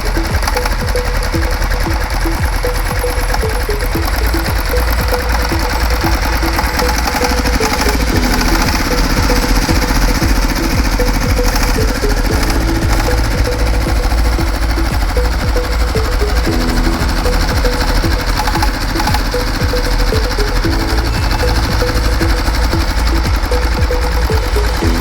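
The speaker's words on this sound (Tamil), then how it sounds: "ஸ்டார்ட் பண்ணி பார்க்கலாம் இன்ஜின் வளம் எப்படி இருக்குது என்பதை" A 2013 China SIFANG Landmaster two-wheel tractor engine runs after starting, a loud, close, steady rapid clatter that continues unbroken throughout.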